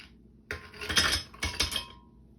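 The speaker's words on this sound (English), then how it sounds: "So first we're going to pour in our ice." Ice cubes tumble into a blender jar in two clattering bursts, close and bright with sharp clinks against the container, separated by a brief pause.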